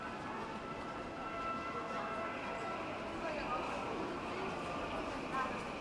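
A Pyongyang subway train produces a continuous, even rumble of wheels and cars throughout, with a narrator talking over it.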